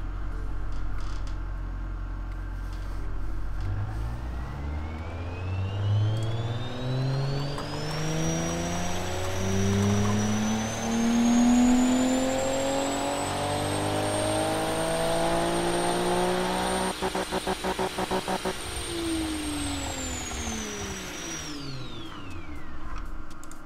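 A simulated Nissan RB25DET engine in the Automation car game revs through a dyno run. The tone climbs steadily, holds at high revs with a buzzing drone, then drops back sharply to idle. No voices over it.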